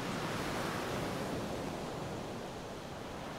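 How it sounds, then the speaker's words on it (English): Waves break on a beach on the Suffolk coast at night, a steady, broad wash of surf roaring continuously without any voices. "You can hear the waves crashing against the beach"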